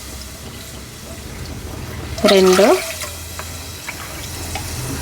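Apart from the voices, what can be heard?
water poured into sorghum flour for dough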